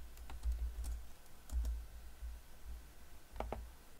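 Faint, sharp computer mouse clicks sound as scattered single and double taps over a low steady hum, with no talking.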